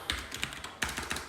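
Quick bursts of keystrokes clatter on a computer keyboard, a handful of sharp taps in an uneven rhythm, close and clear with no talking.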